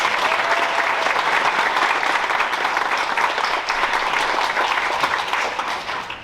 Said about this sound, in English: Give those recipients one more round of applause.